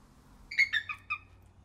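A captive golden eagle at an environmental center gives a short series of four high, thin piping calls, moderately close against a quiet background.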